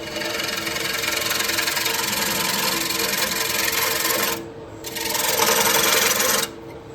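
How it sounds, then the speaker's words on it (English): A scraper works the inside of a wooden bowl spinning on a lathe, giving a steady raspy whir with a brief dip partway through before the scraping resumes. "So we're just going to start finishing up with the scraper."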